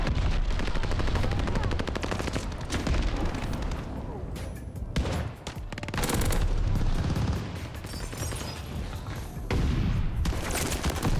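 Rapid PPSH-41 submachine gun fire in the video game Call of Duty Vanguard, loud continuous bursts with booming impacts and brief lulls, mixed with gameplay sounds and occasional talk.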